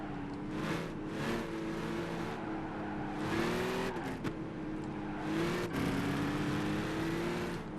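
Race car engine in the Gran Turismo 5 video game during a supercar lap held in third gear, revving loudly and continuously with rising and falling pitch, brief dips on corners and occasional tire squeal.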